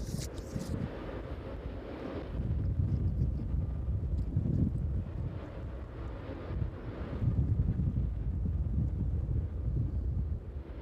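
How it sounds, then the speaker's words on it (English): Gusty wind buffeting the microphone at East Midlands Airport in the evening, a low rumbling roar that swells and eases in waves across several seconds, with no voices. "Yep, wind definitely picking up."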